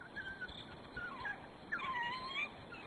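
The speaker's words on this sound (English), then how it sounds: "the yelps that smell elicits cue a ready response from them to regurgitate their meal" A pack of African wild dogs yelps and whines with high, wavering cries, several overlapping calls rising and falling close by against a soft outdoor background.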